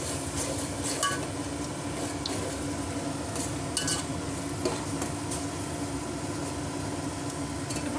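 Curd being stirred into paneer and peas pulao in a pot, a steady scraping and mixing sound with faint sizzling underneath and a few brief clinks of the spoon against the vessel.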